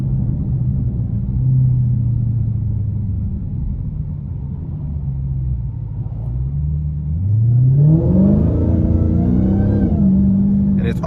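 A supercharged V8 in a 2023 Dodge Challenger Widebody growls at steady rumbling cruise, then climbs in pitch as it accelerates hard near the end, heard close from inside the car.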